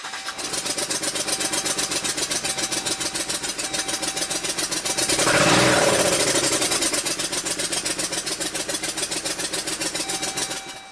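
A 2019 Jeep Rubicon Pentastar V6 with a P0300 misfire fault at 71k miles runs loud and rough on three cylinders, some spark plugs removed, giving a fast, uneven chugging pulse that swells briefly in the middle and then settles back.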